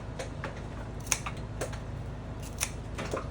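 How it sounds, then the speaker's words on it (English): Sharp clippers trimming flower stems for a bridal bouquet in a flower shop, a few crisp quiet snips spaced about half a second apart, close and soft. "A nice sharp pair of clippers is essential"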